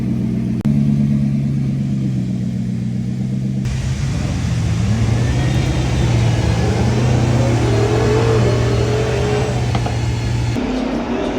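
A Ferrari F80 supercar engine roars past loudly, revving hard with rising and falling pitch as it accelerates through the gears, steady and close throughout.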